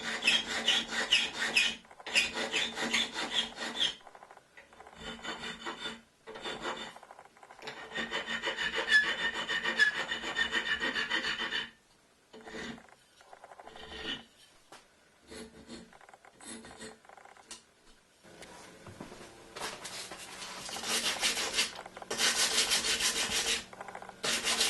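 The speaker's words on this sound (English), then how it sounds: "Tidy up all the cuts and smooth with abrasive." Abrasive rubs back and forth over wood to smooth freshly cut edges, making a loud, close rasping scrub in bursts broken by short pauses, with no voices.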